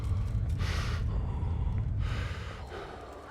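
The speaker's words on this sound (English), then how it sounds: "We can all heavy breathe like that." Heavy breathing from a person: two drawn, airy breaths a little over a second apart, close and fairly loud over a low background hum.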